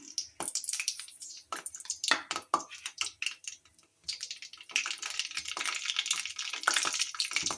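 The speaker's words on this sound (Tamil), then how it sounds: "கடுகு வெடிக்கட்டும்." Rapid, dense crackling and spitting pops of mustard seeds bursting in hot oil, continuous and close with brief quieter gaps.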